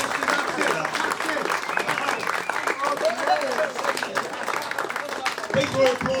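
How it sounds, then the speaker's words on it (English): An awards evening audience at a rugby league club applauds its under-18s team, a continuous wash of clapping with voices talking and calling out over it. "People are applauding them now"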